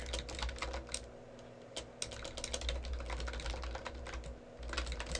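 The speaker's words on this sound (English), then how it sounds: "God, I'm such a fast typer." Rapid typing clatters on a computer keyboard, a dense run of quick keystrokes close up over a low steady hum, continuing without pause for the whole stretch.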